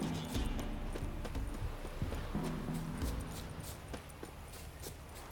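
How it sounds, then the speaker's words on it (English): Hooves clip-clop in an uneven walking rhythm as ridden horses approach along a path in the video game The Witcher 3: Wild Hunt, a steady moderate patter with no talk over it. "Horses. Okay, they do have riders."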